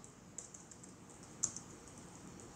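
Quiet, close typing on a computer keyboard while entering Python code, with light irregular key clicks and one sharper tap partway through.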